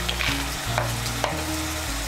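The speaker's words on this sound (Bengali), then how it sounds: "বড়ি আর বেগুনগুলোকে ভালো করে শাকের সঙ্গে মিশিয়ে নেব" Fried bori lentil dumplings and eggplant being stirred into spinach in a hot pan, steady sizzling and frying with a few scraping stirs of the spoon, close up.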